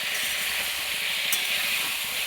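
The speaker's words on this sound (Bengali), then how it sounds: "চলো দেখো রান্না হচ্ছে ফুলকপি দিয়ে আলু দিয়ে তরকারি" Cauliflower and potato curry cooking in a pan, giving a soft, steady sizzle with faint stirring underneath and no voices.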